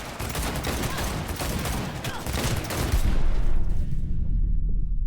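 Sustained gunfire from a firefight in Cyberpunk 2077 played on an Xbox Series S, rapid overlapping shots forming a dense, loud barrage that swells louder near the end with booming impacts.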